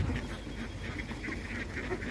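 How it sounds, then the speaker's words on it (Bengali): A large flock of Khaki Campbell ducks feeding together on a farm, a continuous dense chatter of overlapping quacks close by and fairly loud, with no voices. "হাঁসগুলো দলবদ্ধভাবে খাইতেছে।"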